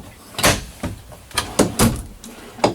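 Full-extension drawers in the hardwood cabinetry of a 2016 Forest River Berkshire XLT diesel RV slide open and shut, giving several soft, close thuds and rolling swishes at uneven intervals.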